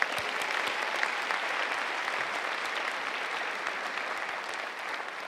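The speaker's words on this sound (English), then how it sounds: "Give yourselves a round of applause." A school district recognition night audience gives itself a round of applause; dense, even clapping from a large crowd continues steadily throughout and fades slightly near the end.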